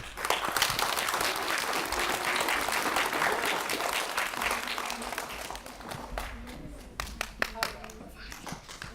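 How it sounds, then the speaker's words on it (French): Theatre audience applauding at a stage performance, a dense wash of clapping that holds steady, then thins to a few scattered claps near the end. "Pour saluer pendant qu'on nous applaudit."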